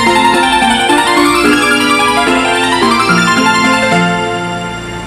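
Tokyo Metro Fukutoshin Line departure melody at Shinjuku-sanchome station, a loud, clear electronic chime tune of several short notes playing alone for about five seconds before fading out.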